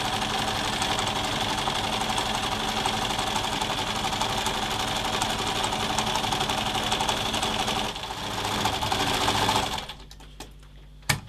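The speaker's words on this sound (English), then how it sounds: "sew across the end, stop 1/2 centimetre, turn it round, and back up the other long side at great speed." A sewing machine stitches apron fabric at high speed, a loud, close, continuous whirring hum that briefly dips, surges again and stops near the end, leaving a quiet click or two.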